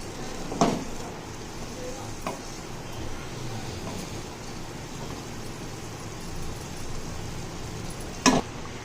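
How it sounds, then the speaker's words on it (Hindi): Cooking rice is folded from the bottom up through bubbling jaggery syrup for Punjabi gur wale chawal, with a soft steady sizzle under a few sharp spoon knocks against the pot, close and without speech. "चावल ऐड करने के बाद हम इसे मिक्स करेंगे इस तरह से नीचे से ऊपर की तरफ।"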